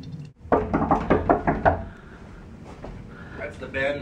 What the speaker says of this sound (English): That's the band knock.